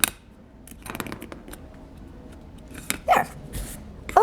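Scissors trim duct tape in a few quick snips and crisp cuts, close by, among soft handling rustles in a quiet room.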